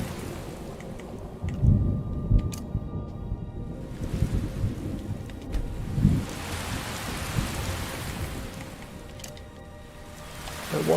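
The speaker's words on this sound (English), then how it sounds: "Don't want no noisy thunderstorms." A thunderstorm in the video game Skyrim: steady rain hisses throughout while several deep thunder rumbles roll in and fade, with no one talking.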